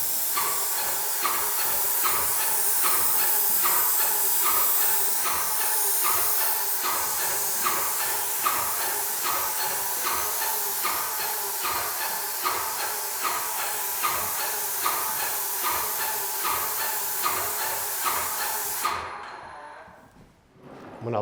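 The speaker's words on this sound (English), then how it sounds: "Looks like it's spraying out pretty good." A paint sprayer coats a door in a steady, loud hiss, pulsing in quick even bursts for most of the stretch before cutting off near the end.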